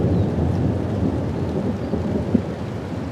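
Deep rumbling thunder rolls continuously beneath steady heavy rain in the hills, with no voices.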